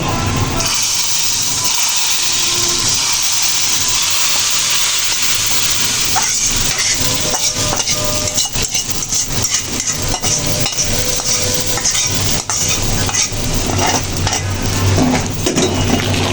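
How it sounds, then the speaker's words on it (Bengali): Hot tempering of fried onion and garlic poured slowly into khichuri, a loud close sizzle and hiss that bursts in and keeps crackling steadily, with some clinks of a pot and spoon. "খিচুড়ির জন্য বাগারটা আমার রেডি। এবার আমি আস্তে আস্তে এটা খিচুড়ির মধ্যে ঢেলে দিব।"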